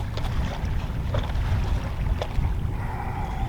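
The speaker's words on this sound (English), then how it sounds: "Bit of a wind blowing, like I said." Wind gusts at a lakeside lure-fishing spot, rumbling steadily against the microphone, with faint higher sounds drifting in the background.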